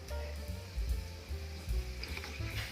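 Mustard seeds and urad dal fry in hot oil for a chutney tempering, giving a soft, continuous sizzle with light popping and occasional low stirring knocks, fairly quiet and close.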